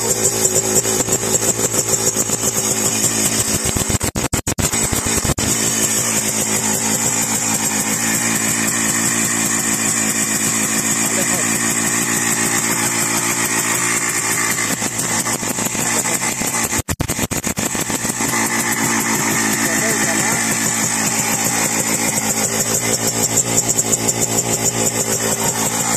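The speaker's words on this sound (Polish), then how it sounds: "Jak widzicie, motocykl chodzi" A 1976 WSK 175 Kobuz motorcycle engine runs steadily at idle with a rough, vibrating two-stroke rattle, holding its revs close by and loud for the whole stretch, with no voices.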